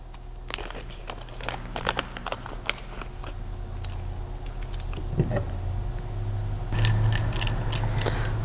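A foam cannon is screwed onto a quick disconnect fitting with O-rings, giving a run of small close metallic clicks, scrapes and rattles of threading over a low steady background hum.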